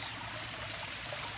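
Filtered water from a fish pond filter system flows steadily back into the pond, a continuous close trickling stream with no voices.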